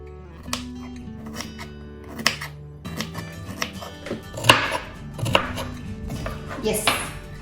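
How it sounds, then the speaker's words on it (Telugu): Carrots being diced on a cutting board with a knife: irregular crisp chops repeat up close, with some sharper clusters of cuts and no talking. "క్యారెట్స్ కూడా డైసింగ్ ఆర్ చాపింగ్ అయిపోయింది"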